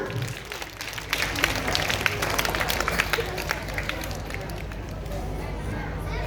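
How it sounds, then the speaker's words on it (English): Schoolchildren clap together at a Grade 2 school assembly, a dense, lively patter of small hands with crowd murmur and voices mixed in, swelling after the first second and holding steady. "Clap everyone."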